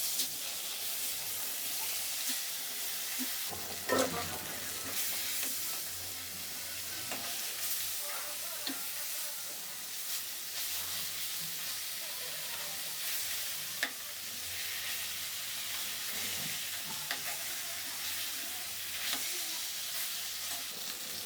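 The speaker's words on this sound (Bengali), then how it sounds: "কড়াই গরম হয়ে গেছে, দিয়ে দেবো খানিকটা সর্ষের তেল। মাছগুলো ভেজে নেব।" Small fish frying in mustard oil in a hot wok, a steady close sizzle and hiss with occasional stirring clatter, no talking.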